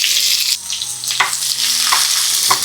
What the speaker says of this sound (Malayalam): ഈ ഒരു സമയം 3 സവാള ഇതുപോലെ കട്ട് ചെയ്തത് ചേർത്ത് കൊടുക്കാം.